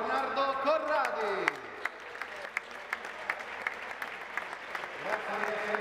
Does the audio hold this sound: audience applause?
yes